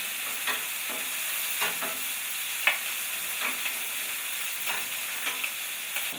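Onions hitting a hot pan that has just cooked ribs: a steady, even sizzle of frying with occasional soft crackles and pops, moderately quiet and continuous, with no voices.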